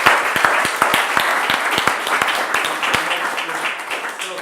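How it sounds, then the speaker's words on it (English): A small audience claps for the artist Severin at a talk, brisk close clapping that starts loud and gradually thins out, with a voice faintly heard under it. "Let's have another round of applause for Severin"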